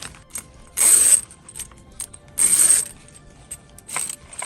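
A roll of continuous zipper tape is pulled out in two short bursts of zipping rasp, close and fairly loud, separated by quieter handling noise during DIY pouch sewing.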